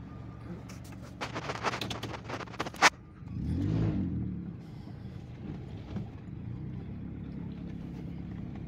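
A railroad maintenance-of-way track vehicle passes nearby, its engine drone rising to a rumbling swell midway and then fading into a steady low hum, with some rattling clatter early on.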